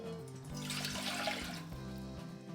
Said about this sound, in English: I'm going to pour in my water.